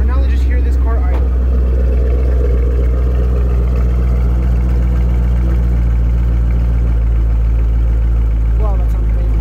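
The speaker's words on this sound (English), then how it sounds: "let's just hear this car idle" A Chevrolet Camaro V8 engine idles with a deep, steady, loud burble held close for the whole stretch, with a few brief faint sounds over it.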